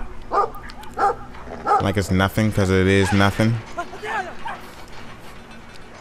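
A dog in the Brothers: A Tale of Two Sons video game lets out a drawn-out whining bark mid-clip, with someone talking over it before and after.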